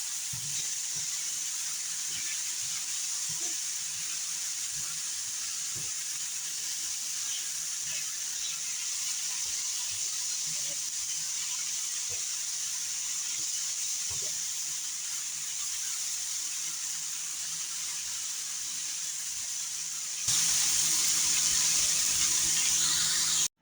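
Mushrooms and onions sizzling over a low flame on a griddle pan, a steady soft hiss with occasional faint pops and clinks, the hiss turning brighter and louder near the end.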